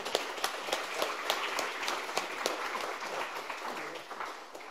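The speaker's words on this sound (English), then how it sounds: "so let's give her a round of applause." Applause from a crowd, steady broadband clapping with a few sharper individual claps, tapering off slightly at the end.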